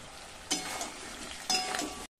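Chicken fries in a pan with garlic, ginger paste, chilli and turmeric powder, a constant sizzle broken by two louder stirring scrapes of a utensil against the pan.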